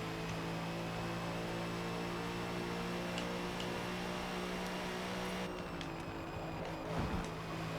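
A GT race car engine drones steadily in Forza Motorsport at Suzuka, a loud sustained tone that holds evenly, then shifts pitch near the end with a brief bump, no voices over it.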